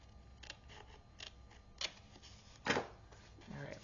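Scissors trim thick paper flaps on a photo folio craft project in a few quick, faint snips and rustles, close by and spaced irregularly, against a quiet room.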